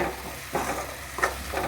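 Green chillies frying in a pan, a soft steady sizzle with a few brief stirring scrapes, close and quiet with no talking.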